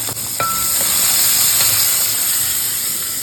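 Cumin and onion sizzle in a hot pan for bitter gourd ullikkaaram, a loud steady hiss fills the whole stretch with a few faint clicks near the start and no talking.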